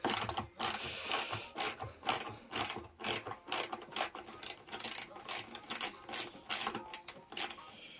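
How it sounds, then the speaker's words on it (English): A small ratchet fitted with an extension and 10mm socket clicks in rapid bursts on a 2014–2019 Yamaha MT-125 ABS motorcycle engine, close and crisp, with short pauses between strokes. "the small ratchet with the extension piece on and the 10mm socket"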